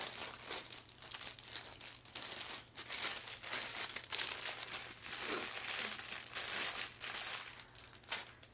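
Sticker sheets being handled and put away make close, continuous crinkling and rustling, with small taps and shuffles throughout and no voices.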